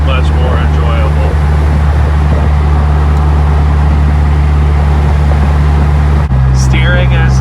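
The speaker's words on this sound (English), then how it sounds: "Other than the engine noise and some wind noise, there's really nothing vibrating in the car now" Inside a moving car with a depowered stock steering rack, a loud, steady engine drone and wind rush fill the cabin continuously, with a voice talking over the noise near the end.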